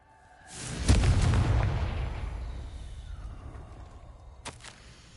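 A Confringo blasting-spell explosion in Hogwarts Legacy: a sharp crack opening into a deep, rolling boom that fades slowly, followed by a second smaller sharp burst near the end.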